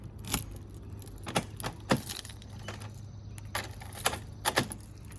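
A Schlage cylinder key jangles on its ring at a door fitted with panic bar hardware, giving a series of quiet, close metallic clinks and rattles spread across a few seconds.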